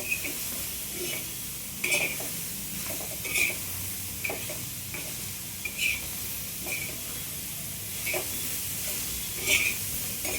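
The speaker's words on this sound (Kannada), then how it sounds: "ನೋಡಿ ಈ ಥರ ಹುರ್ಕೋಬೇಕು ಹಿಂಗೆ." Grated radish palya (mulangi) is stir-fried in a pan, giving a steady sizzle with repeated scraping stirs at a regular pace, close and clear, with no talk over it.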